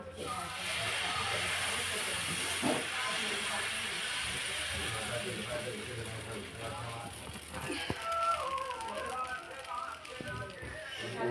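Khaparoli cooking on a pan gives a steady, soft hiss of sizzling that runs throughout at a moderate level, with someone speaking over it.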